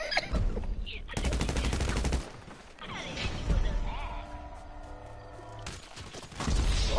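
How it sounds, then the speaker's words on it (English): Pistol gunshots fire in a video game as sharp bursts of rapid shots, loud and close. They fill a busy mix of game noise with chatter. "Dude, you finna get killed with a pistol."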